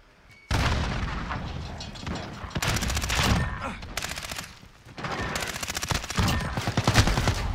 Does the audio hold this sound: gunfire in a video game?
yes